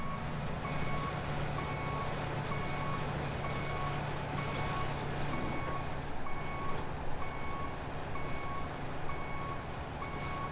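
Steady, evenly spaced reversing beeps from a truck in the off-road driving game SnowRunner, repeating throughout over a continuous low engine drone, moderately loud with no talking.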